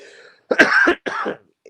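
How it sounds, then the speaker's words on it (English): Two harsh coughs close together, loud and near, with a brief pause between them and no talking. "excuse me, I'm about to cough."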